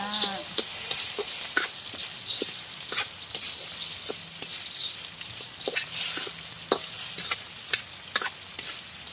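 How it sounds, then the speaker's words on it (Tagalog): Mung beans sautéing and being stirred in a pan, a steady bright sizzle with repeated sharp scrapes and clinks of the utensil throughout, fairly close and continuous. "i-gisaya ang munggo"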